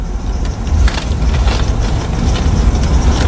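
A car driving and being turned around, a steady low road and engine rumble inside the cabin with small bumps and shifts in level, continuous and fairly loud.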